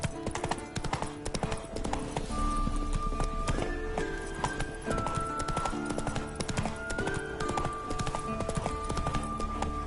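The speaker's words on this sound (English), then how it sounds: "Not so fast, Roach. Giddy up." Rapid clip-clop of a galloping horse in The Witcher video game runs steadily over layered game music. A brief voice speaks partway through.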